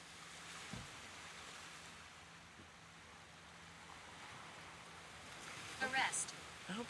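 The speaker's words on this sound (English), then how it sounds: "I hope you can hear the waves too." Ocean waves wash in a soft, faint, continuous roar with wind noise, a few small knocks, and brief louder rustling near the end.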